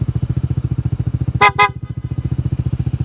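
Two short, loud blasts from an aftermarket P-horn on a Honda ADV 160 scooter, sounding over its steady idling engine, with a slight echo around them.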